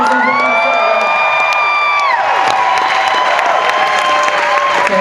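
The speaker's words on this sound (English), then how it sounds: "You guys got to applaud." A crowd at a Sundance 2012 gathering cheers, whoops and applauds loudly and steadily, with shouts rising over the clapping and a held musical tone sounding early on.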